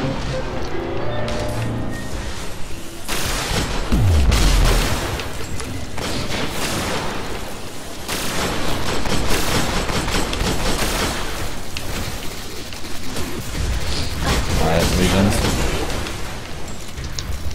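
Rocket launches and gunfire in the video game Destiny during a Vault of Glass raid, dense booms and rapid shots blending into a continuous loud barrage, with players talking over it.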